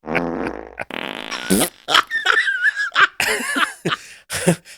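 Comic fart noise sound effects dropped into a retro pop culture news segment, several loud, brassy blurts in a row with short gaps, alone without talk.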